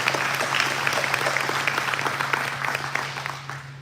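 An audience claps at an Air Force retirement ceremony, producing a steady patter of many hands from a moderately distant crowd. The applause fades slightly toward the end, and a low steady hum runs underneath.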